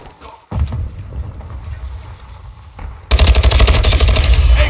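Gunfire from the video game Modern Warfare 2 in a team deathmatch: scattered shots and thumps give way to a loud, sustained automatic burst at close range.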